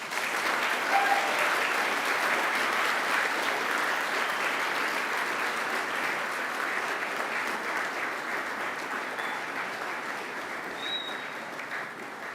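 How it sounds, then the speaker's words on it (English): Sustained, steady applause from a large graduation crowd in a university ceremony hall, graduates clapping for their families and friends, dense and even throughout with slight fading toward the end. "now I invite you to give them a mighty round of applause"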